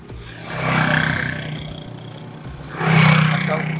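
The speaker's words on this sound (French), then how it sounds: "Tu vois pas qu'il y a les motos." Motorcycles roar past close by on a street, two loud passes rising and fading a couple of seconds apart, engines revving over steady traffic noise.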